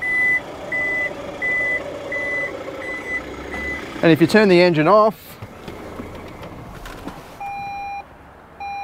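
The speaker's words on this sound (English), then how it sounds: "this car has so many beeps and things." A 2023 Toyota LandCruiser 300 Series warning chime beeps in a steady repeating pattern, pauses during a brief burst of warbling alert tones, then resumes slower; a voice speaks briefly.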